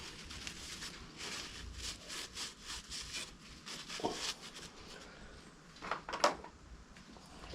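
Scrubbing on a dirty bicycle pedal axle, uneven rhythmic rubbing strokes with a few sharper metallic scrapes and clicks near the end, fairly quiet and close, no speech.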